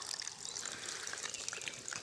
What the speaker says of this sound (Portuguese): A água tá descendo aqui pela meia bandazinha aqui, ó.